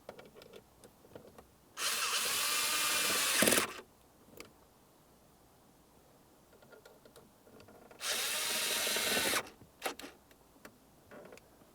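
A power driver tightens screws during shift cable replacement on a 2002-2009 Chevrolet Trailblazer, two loud sustained whirring bursts of about two and one and a half seconds, with faint clicks and handling noise between.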